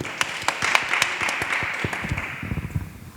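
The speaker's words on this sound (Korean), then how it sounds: "우리 박수 한번 드립시다." A church congregation breaks into applause, dense overlapping hand claps filling the room steadily for a few seconds, with faint voices mixed in.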